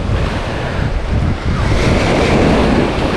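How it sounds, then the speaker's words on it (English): Ocean waves crashing on a shore, a loud, rushing wash of surf with heavy wind buffeting the microphone, swelling toward the end. "As powerful as the sea is"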